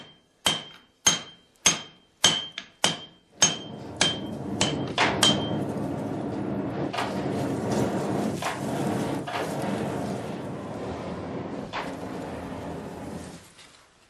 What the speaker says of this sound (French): Jour après jour, Gassan martèle la barre d'acier